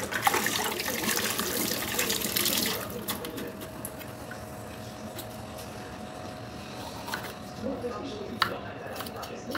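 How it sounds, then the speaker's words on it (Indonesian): Tap water runs loudly over vegetables being washed in a kitchen for a few seconds, then cuts off, leaving quieter handling noises and a faint hum. "Selanjutnya kita akan cuci bersih."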